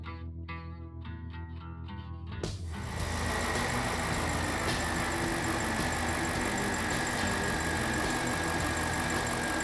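A car engine fires up after a brief whirring start and settles into a steady, close idle that rumbles on evenly.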